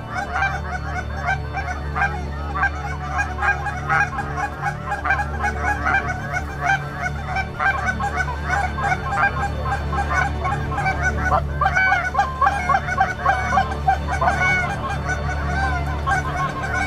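A flock of geese honking loudly and continuously as they fly in toward decoys on a freezing cold hunt, many overlapping calls close by with no speech.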